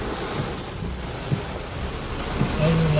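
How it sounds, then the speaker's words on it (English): Heavy rain in Detroit roars as a constant wash of noise with a deep rumble beneath, a couple of soft knocks, and a low tone rising near the end. "Ooh, look at that rain."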